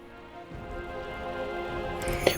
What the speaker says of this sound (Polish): Grad kamieni